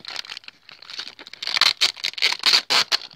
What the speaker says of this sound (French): on va enlever encore les bouts de scotch